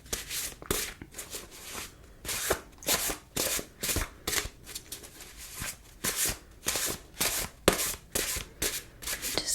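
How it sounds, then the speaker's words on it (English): A deck of cards is shuffled up close in a quiet room, with soft rhythmic riffling bursts repeating in quick succession and short pauses between them. "So I'll be drawing two cards from this deck"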